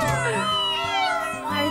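Cartoon kittens meow in a high, wavering chorus of overlapping cries, close and loud, filling the short moment.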